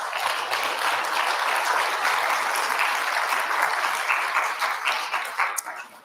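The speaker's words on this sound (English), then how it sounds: "they'll be tired of clapping by the last person" An audience claps continuously at a televised event, a dense, even wash of applause that holds throughout and tapers slightly at the end, with no talking over it.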